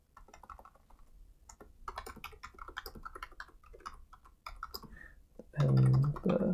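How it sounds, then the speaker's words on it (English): Rapid, irregular clicking of fingers typing on a computer keyboard during a genome informatics lab session, moderately close and steady, ending with a louder burst of low rumbling noise. "now I'm typing without looking because of the way my screen is set up"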